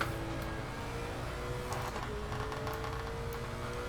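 A race car engine revs hard in an on-board recording at the Paul Ricard circuit, holding a loud, steady drone through the gears with a brief pitch drop partway through.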